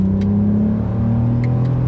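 An Audi TT MK1 V6 engine revs steadily in sport mode, with a strong, close-up car engine drone holding a constant pitch and no speech throughout.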